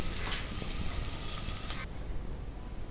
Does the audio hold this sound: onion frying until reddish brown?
yes